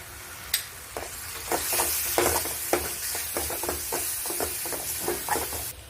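Yogurt hits a hot spiced oil tempering for a vegetable dish and sizzles steadily, with stirring scrapes and light knocks of a spoon against the pan throughout.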